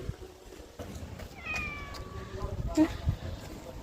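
A nearby cat gives a short rising meow, quiet against household background noise and soft voices.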